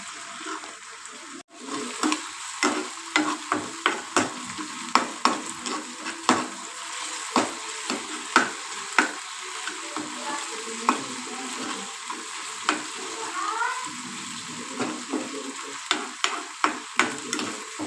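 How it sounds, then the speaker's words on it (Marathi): Ginger garlic paste frying in a pan for a fresh green pea curry, with a steady hiss and regular spoon scrapes and taps recurring roughly every second, near and moderately loud with no talking. "अद्रक लसणाची पेस्ट छान अशी भाजली पाहिजे।"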